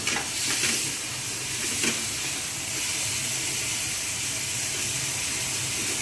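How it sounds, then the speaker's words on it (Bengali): Broadband sizzling and hissing from a frying pan on a stove as white sauce is poured in over olive oil and garlic, a steady, fairly loud crackle throughout. "এখন ঢালছে হোয়াইট সস"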